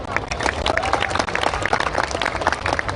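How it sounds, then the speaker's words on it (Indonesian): Crowd applause at an Indonesian public gathering with police, military and students present, dense and steady clapping filling the space with a faint voice threading through. "Tepuk tangan dulu"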